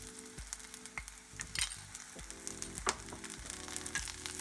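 Turmeric and coriander powder sizzle and crackle steadily in oil in a pan, with sharp pops now and then over soft music in the background.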